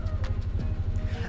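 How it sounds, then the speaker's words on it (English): A V8 car engine in the Minecraft video game idles with a steady, low rhythmic rumble, close and continuous throughout. "You hear that? That's a V8 engine."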